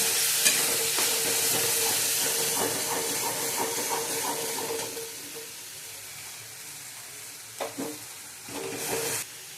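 Onion and tomato puree masala for chole is stirred in a hot pan, a steady sizzle with scraping spoon strokes that softens midway, then a few sharper clinks and scrapes near the end.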